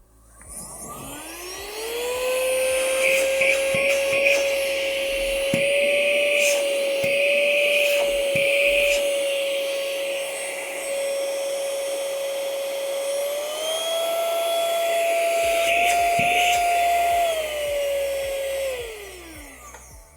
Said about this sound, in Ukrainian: Є дві швидкості в даному пилососі, працює доволі потужно, не дивлячись на свої розміри.